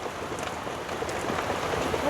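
Steady rain patters on a boat, a dense, even hiss of drops with scattered louder taps throughout, close and moderately loud, with no voices.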